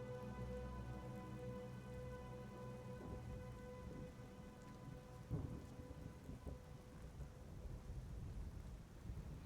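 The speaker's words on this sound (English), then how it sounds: "A gentle rain shower" Gentle rain shower in the game Skyrim, a steady soft patter of drops on ground and leaves with a low rumble beneath, continuous and even throughout with no voices.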